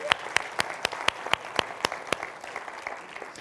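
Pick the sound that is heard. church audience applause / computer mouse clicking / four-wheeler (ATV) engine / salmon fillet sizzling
church audience applause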